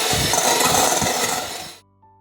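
Eggs beaten with a beater make a close, steady whirring, rattling churn that runs for under two seconds and then cuts off abruptly to near silence.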